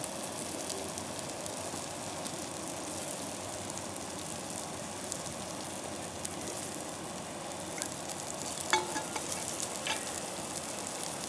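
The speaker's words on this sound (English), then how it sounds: "Here's our breakfast cooking." Breakfast with bacon fries in a pan on a camping stove outdoors, giving a steady, fairly quiet sizzle and crackle with a few small clinks.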